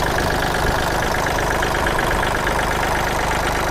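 A used Kubota L3608 tractor's diesel engine idles close by, a steady loud chugging knock with an even rhythm that holds unchanged throughout.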